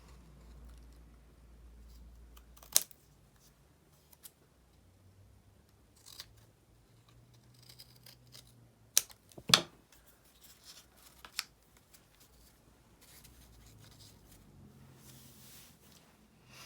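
Scissors snip through material for a trash-to-treasure craft, a few sharp, close cuts scattered among quiet rustling and handling sounds, with longer pauses between them.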